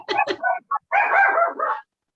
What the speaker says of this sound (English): Somebody's doggy's happy.